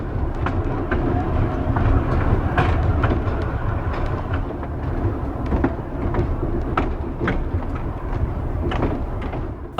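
An East Broad Top M-7 train backing slowly around a wye with preserved coal hoppers, repeated metallic clicks and clanks over a continuous low rumble and squeal, no voices.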